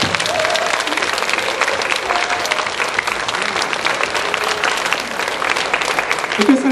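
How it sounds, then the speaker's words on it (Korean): A church congregation cheering and applauding at a Christmas service, with loud, dense clapping that is sustained throughout and crowd voices mixed in, plus a brief voice rising near the end. "우리 이 시간에 환호성과 박수로서 우리 주님께 영광과 감사의 박수 올려드리겠습니다"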